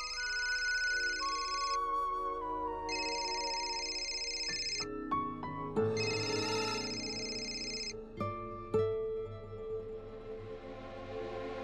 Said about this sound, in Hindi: बाबूजी का फोन भी आना था।